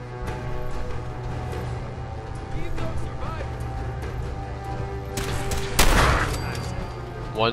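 Gunfire rings out in Fallout 4 over steady game ambience and a low hum, peaking in one loud, sharp shot with a brief crackling tail near the end while a player talks.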